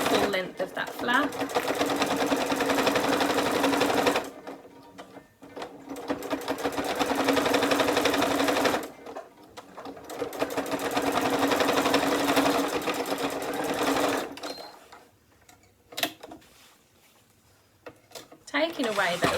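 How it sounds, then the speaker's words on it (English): A sewing machine runs in long bursts along the full length of a folded fabric flap on a fat-quarter accessory roll, its rapid steady whir stopping and restarting several times between short pauses. "sewing along the full length of that flap"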